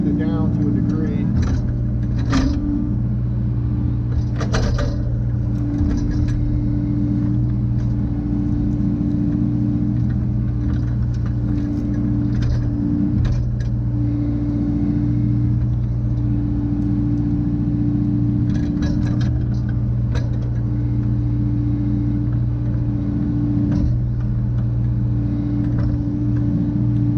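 A diesel engine of a tracked construction machine, a mini excavator such as a Takeuchi TB235-2, runs steadily while tracking over loose dirt, a close continuous loud rumble with faint clanks and squeaks from the tracks, and someone talks over it.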